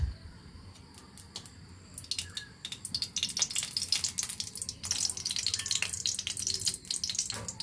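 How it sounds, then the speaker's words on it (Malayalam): A tablespoon of coconut oil is poured into a pan heating on a stove while cooking cabbage thoran. A steady wet, hissing trickle and light sizzle sound close by, with scattered clicks, growing busier partway through. "ഞാനൊരു ടേബിൾ സ്പൂൺ കോക്കനട്ട് ഓയിലാണ് ഒഴിക്കുന്നത്."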